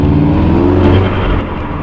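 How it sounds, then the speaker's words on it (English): A turbocharged Volkswagen MK7 Golf R engine roars loudly up close with a steady rumbling drone, the pitch shifting slightly as the revs ease off near the end. "That turbo sounds good."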